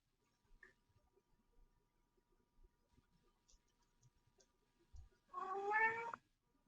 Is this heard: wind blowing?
no